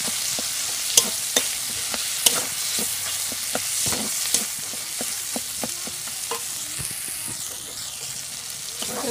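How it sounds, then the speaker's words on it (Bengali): Spice paste for a vegetable curry sautés in a hot pan with a steady sizzle, punctuated by sharp scrapes and knocks of a spoon stirring, close and fairly loud, with no talking. "তো তরকারির মশলাটা কষিয়ে নিচ্ছি"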